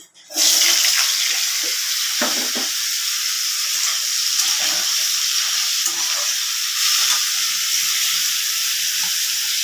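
Potatoes dropped into hot oil in a pan, a loud steady sizzle and crackle that starts abruptly and holds throughout, close and bright with faint stirring bumps underneath.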